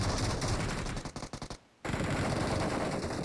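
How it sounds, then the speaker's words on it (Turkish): Rapid automatic gunfire in a PUBG Mobile firefight, dense bursts of shots filling the clip, broken by a brief near-silent gap before the shooting resumes loud and steady. "Aa çatışma var burada baya."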